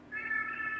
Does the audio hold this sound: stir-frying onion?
no